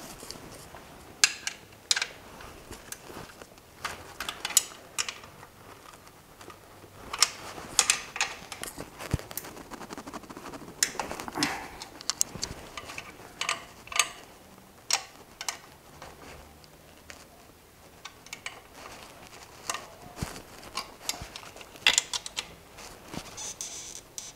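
A ratchet clicks in repeated bursts as crankcase bolts are loosened on a DS 150 motor scooter, steady close ticking with small metallic taps between strokes and no talking.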